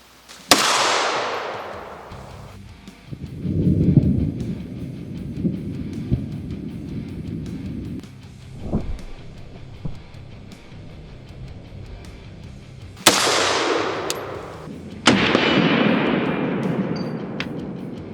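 Two separate AR-15 rifle shots through a standard A1 birdcage muzzle device crack out sharply outdoors, each followed by a long rolling echo, with a quieter rumble and a short thump in the gap between them.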